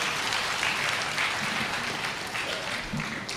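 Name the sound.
audience applause at a speech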